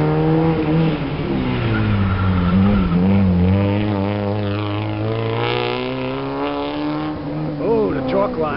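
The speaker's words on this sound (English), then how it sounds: "Three wheels, look at that thing go." Race car lifting onto three wheels at a racing event, its engine revving and rising in pitch at close range as it accelerates past, with excited spectators talking over it.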